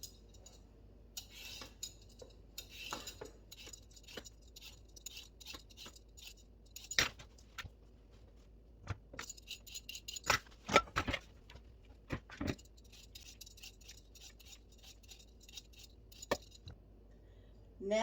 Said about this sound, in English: We will start by peeling our carrots.